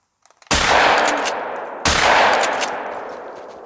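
Two loud rifle shots firing slugs at wild boar in the hunting game theHunter: Call of the Wild, about a second and a half apart, each a sharp crack with a long rolling echo tail.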